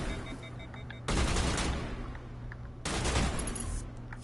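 Gunfire from a weapon in the Mass Effect video game: two sustained bursts of loud, dense automatic fire, each lasting well over a second, separated by a brief lull of game ambience.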